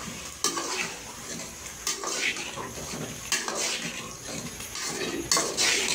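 Boiled meat is sautéed in a pot for an aloo gobhi gosht curry, with loud periodic scrapes and clanks of a spoon against metal over a low sizzle, repeating every second or two.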